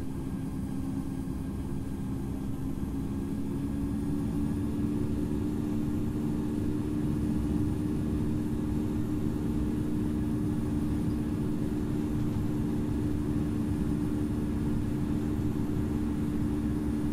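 An MD-11F cargo jet taking off from runway 15 makes a steady, loud low-pitched roar with a droning engine hum that holds evenly throughout, with no talk.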